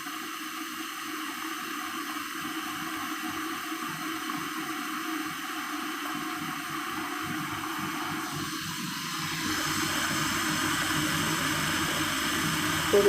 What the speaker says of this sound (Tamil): இதில் உடனே சத்தம் வருது பாருங்கள்.